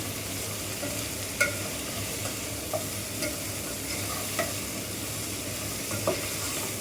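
Drumstick pieces stirred in a pan with turmeric, a steady sizzle under repeated scraping clicks of a spoon, spaced a second or so apart, close and fairly loud with no talking.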